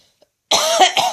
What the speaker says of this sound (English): Horrible cough